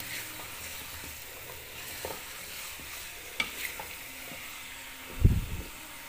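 Chicken curry for desi murgh salan fries in a kadhai with a constant sizzle, while a spoon stirs and scrapes, ending in a louder knock against the pan.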